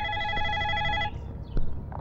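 A phone rings with a bright electronic tone for about a second, then stops; a faint click and some low room noise follow.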